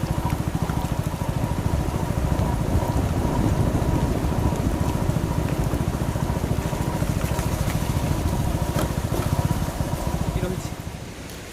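Heavy rain near Putudi Waterfall in Phulbani makes a dense, continuous roar of falling and rushing water, loud and unbroken for about ten seconds before easing slightly, with a voice speaking over it.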